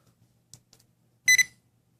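A Garrett Pro pointer metal detector held near a gold bracelet gives a short, bright electronic beep, two quick pulses close together after faint taps and handling noise.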